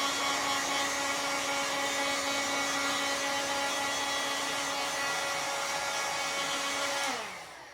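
A heat gun used as a paint stripper blows a steady, loud, airy roar with a faint whine while shrinking RC model covering film, cutting off abruptly near the end.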